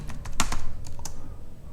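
Keystrokes on a computer keyboard as Ctrl+Alt+T is pressed to open a terminal in Ubuntu on a Jetson Nano setup: a handful of sharp, close clicks in quick succession, with no talking.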